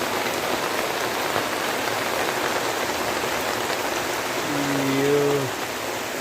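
Heavy rain pours down in a steady, dense roar that lasts throughout, with a brief low tonal call or voice rising near the end.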